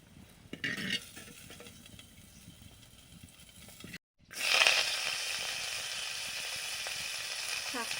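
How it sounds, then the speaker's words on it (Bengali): Green plantain frying in a pan: quiet stirring at first, then a loud, steady sizzle that swells and keeps hissing to the end. "কাঁচকলাটাও ভাজা হয়ে গেল"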